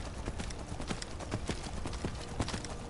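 Rapid rhythmic hoofbeats of a galloping horse in the video game Skyrim Special Edition, steady and close, with a background hum and no voices.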